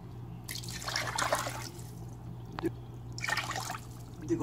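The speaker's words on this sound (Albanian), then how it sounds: "Edhim dhe ujë" Water poured from a glass into a pot of sugar for tullumba syrup, two separate trickling pours close by with a faint clink between them over a low steady hum.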